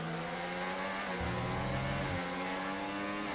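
F1 racing cars running side by side in the F1 24 video game, a steady high engine whine with a lower engine tone briefly layered in, continuous and loud with no talk.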